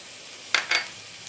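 Masala spices being fried for baingan bharta, with turmeric and ground red chili added to the pan: two short, hissing sizzle bursts close by, separated by a brief pause, over a quiet background.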